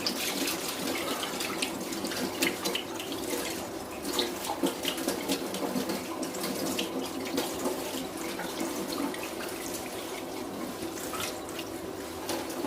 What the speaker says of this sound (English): with some cold water, I'm just going to rinse it out